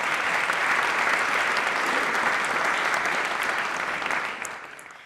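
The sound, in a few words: audience applause at a comedy roast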